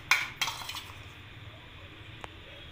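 A spoon stirs cabbage pakora batter of besan, flour, salt and spice in a bowl. Two sharp clinks of metal on the bowl come first, followed by quieter scraping, then one more light tap, all close and fairly soft.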